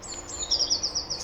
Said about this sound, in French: Ce que vous venez d'entendre là, c'est une petite mésange bleue.